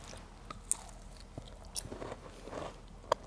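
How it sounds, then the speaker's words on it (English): Teeth bite into a crunchy, buttery pasticcini pastry, several crisp crackling crunches spread over a few seconds, close to the mic and without speech. "did you hear that crunch?"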